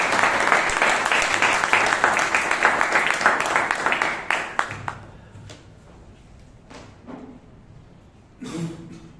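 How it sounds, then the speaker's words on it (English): At a Bangalore Toastmasters meeting, a room full of people applauds the Toastmasters with a brisk burst of clapping that thins out after about four seconds to scattered single claps, with a brief voice near the end. "Give them a round of applause."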